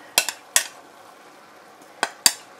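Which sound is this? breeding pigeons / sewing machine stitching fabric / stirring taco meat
stirring taco meat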